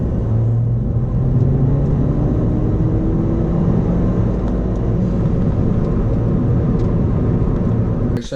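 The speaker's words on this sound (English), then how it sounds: "we're in third gear from 2000 RPM. So let's check the boost. Full throttle." A Ford Fiesta ST with its Symposer removed pulls at full throttle in third gear from 2000 RPM, a loud, continuous engine drone with a slowly rising tone and heavy low rumble.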